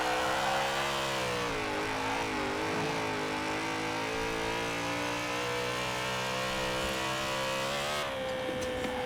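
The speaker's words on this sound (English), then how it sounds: "kind of small V8 that revs high" A BMW Z4 fitted with a small, high-revving V8 in the Forza Horizon 4 racing game roars loudly and continuously as it is held at high revs, the pitch wavering slightly before a brief shift near the end.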